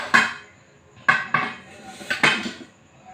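A baking tray holding a banana cake is flipped onto a plate, giving three or four sharp metallic clanks and knocks in quick succession with short gaps between them.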